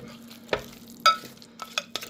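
Salt fish fritter batter being rubbed and mixed by hand as water is worked in, a series of soft wet squelches and scrapes at irregular intervals, close and quiet with no talking.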